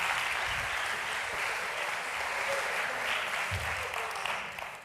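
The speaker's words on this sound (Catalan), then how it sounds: "Un aplaudiment" Workshop audience clapping together in a steady burst of applause, moderately distant and fairly quiet, fading slightly at the end.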